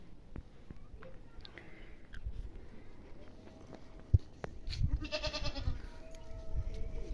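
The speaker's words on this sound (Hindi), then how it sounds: "और ये रही हमारी बकरियां।" Goats bleat on a mountain farm in clear spring weather, a few calls rising over a quiet outdoor background with soft rustling and a sharp knock midway.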